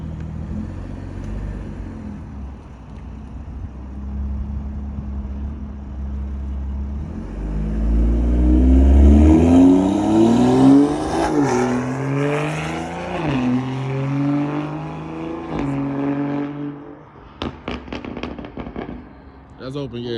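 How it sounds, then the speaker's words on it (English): BMW fitted with a newly installed Dinan exhaust, started and revved in a garage: a low idle rumble swells into rising, throaty revs mid-clip, then trails off with sharp crackles and pops near the end as people talk nearby. "It's gonna get louder too when that exhaust breaks in."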